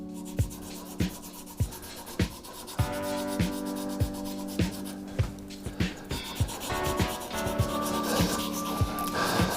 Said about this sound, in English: we're still going through that sanding process